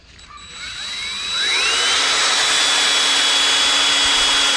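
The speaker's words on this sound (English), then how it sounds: "And I normally drill a smaller hole first." A power drill whines as it bores a hole in a trolling motor shaft, spinning up within the first second and then holding a loud, steady, high-pitched grind close by.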